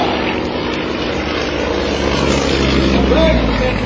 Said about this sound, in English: There goes the Yak-18, there goes the Yak-55. Look at that, simultaneous rose on takeoff.